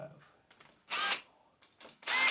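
A power tool loosens bolts on a Blackbird engine during an EFI swap, with two short, close whirring bursts separated by a quiet gap.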